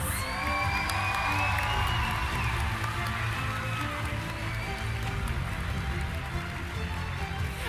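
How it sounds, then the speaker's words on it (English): An audience applauds and cheers for students receiving awards at a school speech contest, a sustained roar of clapping with whoops and children's shouts, fairly distant and steady throughout. "let's give them a big round of applause"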